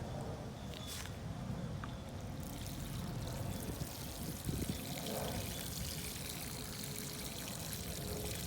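Water pours into the soil of a potted sea grape plant, a faint, steady trickle and wash with a few soft knocks partway through.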